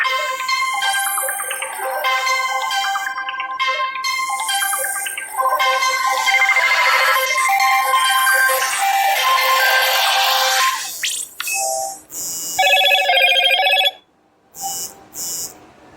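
A Motorola phone ringtone plays loudly and close, a bright electronic melody of repeated tones that runs steadily, then breaks into choppy fragments and short pauses toward the end.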